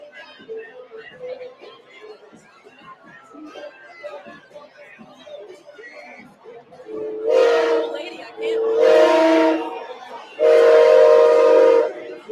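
The Orpheus Smoky Mary train float passes in a Mardi Gras parade, sounding three long, loud train-whistle blasts after a stretch of busy crowd murmur and street noise.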